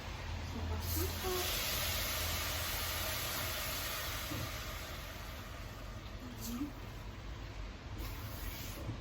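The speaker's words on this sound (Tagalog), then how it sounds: "At lalagyan natin ng tubig." Water hits a hot pan of garlic fried rice, giving a loud, steady broadband sizzle and hiss that lasts throughout, with faint voices underneath.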